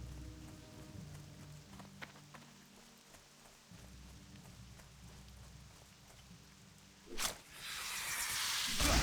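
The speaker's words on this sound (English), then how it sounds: "Yeah, the rain makes it a bit harder to see." Rain falling in the Classic World of Warcraft video game, a steady soft patter with scattered drops and occasional footstep-like clops, swelling louder and brighter toward the end.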